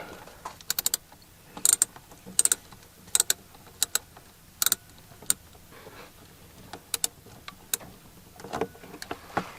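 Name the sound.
socket ratchet loosening a nut on liftgate power unit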